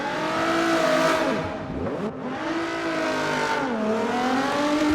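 A race car drifting at Yas Marina in a 2021 competition event holds a loud, continuous engine roar that rises and falls in pitch as the driver works the throttle through the slide.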